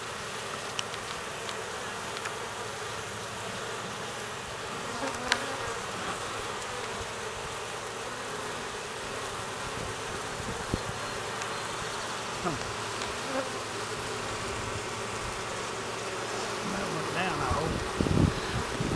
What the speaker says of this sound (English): That drone bee's so big.